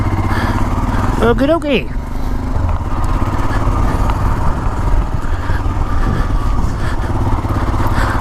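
BMW GS motorcycles ride past on an open road, a steady engine drone running throughout with one bike's rising pass near the start, while someone talks briefly over the noise.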